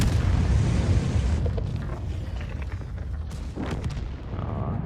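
A tank cannon in World of Tanks fires with a heavy, booming blast that rumbles loudly, then decays into a lingering low roar with a second swell of distant rumbling.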